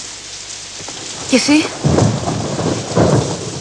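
Rain pours steadily through a night thunderstorm, with a sharp crackling thunder burst partway through, and a few brief spoken words heard over the downpour.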